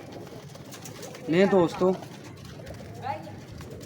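Pigeons in a loft holding about sixty birds give a short burst of low, rolling coos near the middle, loud and close, with someone speaking faintly around it over steady background noise.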